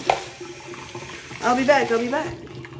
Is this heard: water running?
yes